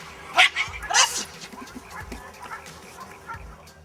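A Bull Terrier barking and yipping while playing in water, with a couple of sharp close barks early on, then softer whimpers and splashy background noise.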